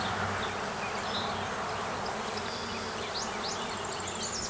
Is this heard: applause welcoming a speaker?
no